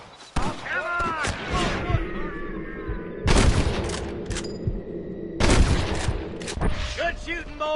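Gunfire in the Red Dead Redemption video game: bursts of rapid shots crack out in clusters, interleaved with a character's shouting voice and game sound effects.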